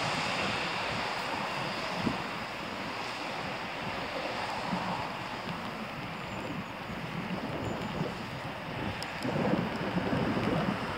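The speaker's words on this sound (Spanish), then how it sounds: "Lleva bastante caudal el río." Steady, full rush of the swollen Louro river after rain, a broad continuous roar with faint wind noise, no voices.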